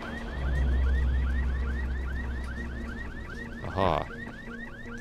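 Car alarm from the game Dying Light, a loud whooping siren that rises in a fast repeating cycle, with a brief burst of noise near the end and a short spoken interjection.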